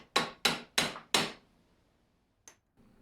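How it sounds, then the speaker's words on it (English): Four sharp, evenly spaced hammer blows ring out close and loud as a hammer strikes the ferrule on a turned wooden chisel handle, followed by silence and one faint light tap near the end. "Then I smashed it with a hammer."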